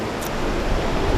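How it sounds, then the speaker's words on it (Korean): Ocean waves breaking on a shore in Bali, Indonesia, a loud broadband wash of surf over about a second, close and steady with no voices. "좋은 파도가 부서지고"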